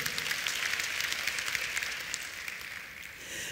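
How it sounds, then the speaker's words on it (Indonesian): A church congregation applauds, a fairly soft, steady patter of many hands clapping that tapers off slightly over a few seconds, with no one speaking. "Beri tepuk tangan yang meriah."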